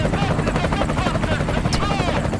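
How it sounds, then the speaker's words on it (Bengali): A helicopter hovers about 1500 feet up, its rotor chop and engine drone loud, steady and close from inside the cabin throughout. "এবার আমরা 1500 ফিট উপরে হেলিকপ্টারে"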